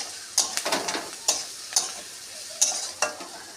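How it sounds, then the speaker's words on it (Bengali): Green chillies with a pinch of salt sauté in a pan, a soft sizzle running under sharp, repeated scraping stir strokes that come at a steady, unhurried pace. "এটা দিয়ে একটু হালকা কষিয়ে নেব।"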